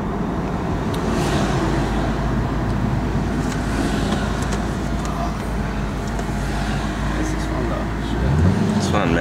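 Chevrolet Corvette with a manual stick shift driving on the road, a loud steady engine and road roar throughout with a slight rise near the end, people talking over it.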